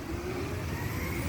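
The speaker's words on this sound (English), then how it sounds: "We got a loud truck going by right now." A loud truck passes on a nearby road, its engine a steady rumble with a rising whine, filling the whole moment with no one speaking.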